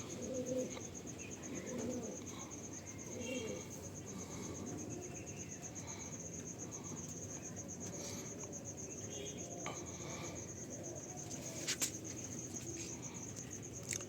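Kalsira male pigeon cooing at a home loft, soft low coos repeating among steady cricket chirring and other distant bird calls, fairly faint and continuous.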